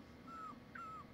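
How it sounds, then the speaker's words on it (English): Chirpy bird calls from Sonic Adventure 2 Battle, two short gliding whistles, the second beginning with a brief bright chirp, sitting over a steady low game background. "Birds."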